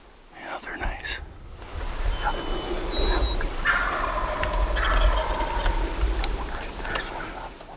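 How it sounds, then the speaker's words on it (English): A wild turkey gobbles in the distance, a rattling call over a steady outdoor rumble, with faint whispering from hunters nearby. "God, I love that gobble."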